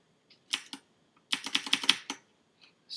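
Typing on a Rantopad MXX mechanical keyboard with blue switches, close and crisp: a few isolated clicky keystrokes, then a rapid burst of clacking presses, then a couple of faint taps.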